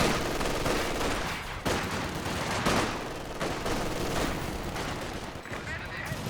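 Machine guns fire in bursts amid a Company of Heroes 2 battle, with dense overlapping rattling gunfire and distant blasts, while a commentator talks over the combat.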